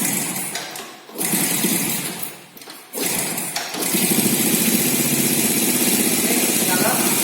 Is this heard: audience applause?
no